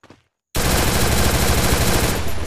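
MP40 submachine gun firing in a video game, a brief faint sound and then a sudden continuous burst of rapid automatic fire, loud and close, lasting about two seconds.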